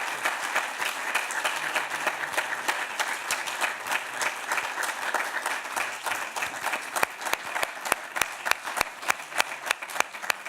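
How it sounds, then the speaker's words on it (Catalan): An audience at a Catalan event held with the families of political prisoners applauds. Dense clapping runs steadily, then thins in the last few seconds into separate, sharp, rhythmic claps. "Un aplaudiment, sí."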